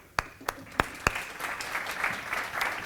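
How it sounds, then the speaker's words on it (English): Conference audience welcoming a keynote speaker on renewable hydrogen in Madrid: a few sharp, separate claps first, then a soft, scattered round of applause builds in the hall. "Please, big applause for him."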